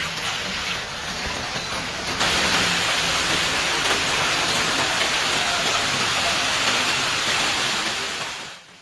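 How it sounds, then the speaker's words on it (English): Heavy rain with hail pounds down during a storm in Ontinyent, Valencia, a dense and loud steady hiss that grows stronger after a few seconds and then fades at the end. "wet downbursts not only bring torrential rain and hail but also very strong wind gusts"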